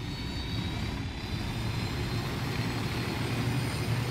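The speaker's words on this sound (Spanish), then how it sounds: "El helicóptero está hecho mierda" A damaged helicopter in Ghost Recon Wildlands gives a steady, close, low engine roar with rotor rumble that holds continuously without pause or talking.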